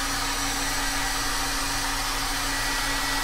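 Steady, loud blowing whir of a hair dryer drying a paint layer in an art journal, continuous and unbroken throughout.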